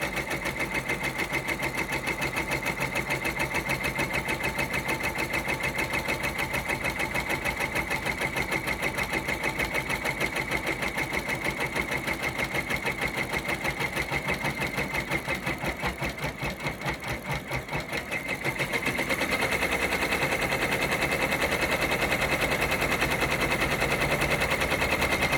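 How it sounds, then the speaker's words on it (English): An embroidery machine stitches a design onto a sweatshirt with a rapid, steady mechanical chatter, close and loud, dipping briefly before resuming its even rhythm. "and it stitches out so nicely."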